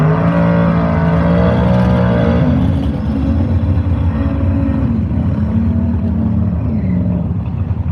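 A Chevelle drag race car on small radial tires launches on nitrous at an outlaw 8.5 drag race event, a loud, continuous engine roar with rising and falling pitch that stays close and dominant throughout, with no talk.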